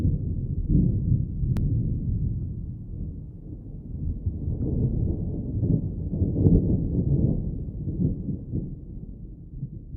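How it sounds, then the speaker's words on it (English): Low, steady rumble of thunder rolling on for the full stretch, dense and muffled in the low end, moderately loud with slow swells and no voices over it. "He exited the bathroom and heard a rumble of thunder."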